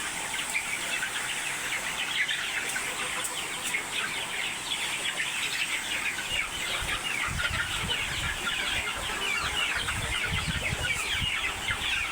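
Chickens cluck and chatter continuously on a poultry farm, a dense, busy chorus of many birds, with a few louder calls and some low rustling and thumps in the background.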